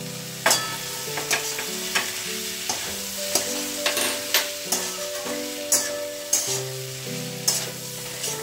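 Spiced water poured a little at a time into cauliflower and egg frying in a pan, giving a steady sizzle with regular stirring scrapes and clinks of a utensil, close and clear with no talking.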